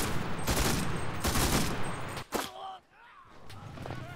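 Gunfire in the online shooter Enlisted, with bursts of automatic weapon fire and single shots through the first half, then a brief lull before quieter distant shots return.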